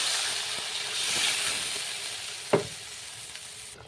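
Fish curry broth with ridge gourd and potato bubbling in a pan, a steady close sizzling hiss throughout with a single sharp clink partway through.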